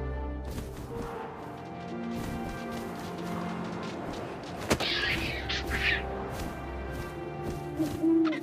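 An owl hoots inside the What Remains of Edith Finch video game, a couple of soft, hollow calls over a steady bed of wind and ambient game sound, with one sharp thump midway.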